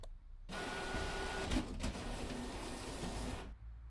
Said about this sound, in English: I'll send the modified picture to the printer